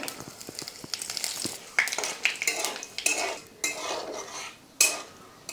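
Panch phoron and bay leaf frying in oil in a pan for an aloo paneer curry, with a spatula scraping and clinking repeatedly against the metal under a soft sizzle, close and busy.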